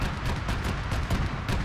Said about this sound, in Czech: Kura, BMPčko střílí.